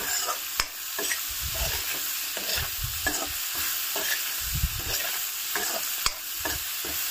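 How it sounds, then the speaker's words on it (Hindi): Food frying in a little oil in a pan, with a steady sizzle broken by the repeated scrape of stirring and a few sharp clinks, heard up close without talk. "थोड़ा सा तेल डाल रखा है ना इससे मैं फ्राई करूंगी"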